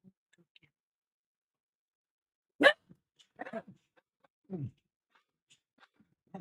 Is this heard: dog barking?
yes